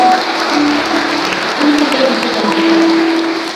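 Church congregation applauding, a dense steady wash of many hands clapping at a Pentecostal Sunday morning service, mixed with sustained tones from instruments or voices.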